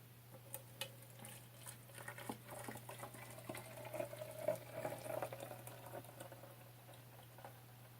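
Freshly boiled, slightly limescaly water is poured into a container, about 350 to 380 millilitres, as a faint, continuous patter and trickle over a low electrical hum, with no talk.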